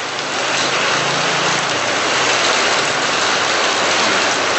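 Heavy rain pours down in a dense, steady hiss that stays loud and even throughout, with no voices.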